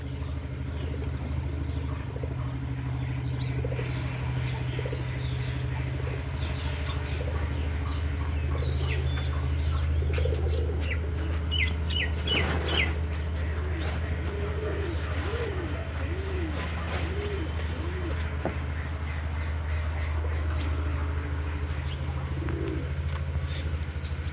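Domestic pigeons in a loft, including an Army pigeon pair with a chick, coo repeatedly in soft rolling phrases, several birds close by over a constant low background hum.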